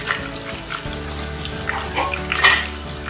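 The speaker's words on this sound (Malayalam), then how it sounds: "നമുക്ക് വറുത്തെടുക്കാം." Chicken leg masala fries in a pan over high heat, giving a continuous close sizzle with a few louder crackling bursts and no voices.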